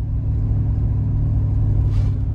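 Cars crawl bumper to bumper on a road near Moab, heard from inside an SUV as a steady, loud, low engine and road rumble with no break.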